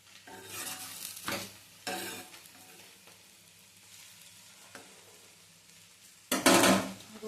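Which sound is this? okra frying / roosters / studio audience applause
okra frying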